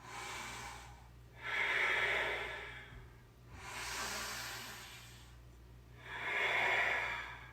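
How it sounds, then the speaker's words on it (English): Three deep, slow yoga breaths, each a long airy rush of inhale or exhale lasting about two seconds, near and clear, with brief quiet gaps between them. "Let's take 2 more big breaths."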